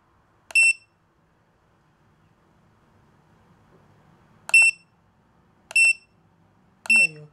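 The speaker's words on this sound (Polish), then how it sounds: "żeby nam się alarm uaktywnił" Short, piercing electronic beeps from a NUCTEST F6000 radiation dosimeter alarm: one, a long pause, then three more at regular intervals, loud and close against near silence with faint handling noise.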